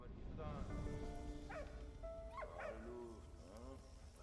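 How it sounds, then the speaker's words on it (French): A dog barks in the video game Soldats inconnus, a few short yelping calls in the middle of the clip, heard over steady background game music and ambience. "Mais comment un chien est entré ici?"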